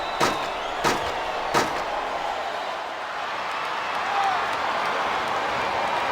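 Arena crowd in the WWE SmackDown vs. Raw 2007 wrestling game, a sustained roar and cheer from the audience with three sharp impact thuds early on, under commentators talking.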